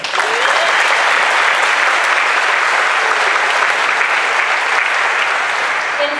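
Audience applauding at an Air Force basic military training ceremony, loud sustained clapping from a large crowd that holds steady for the full six seconds.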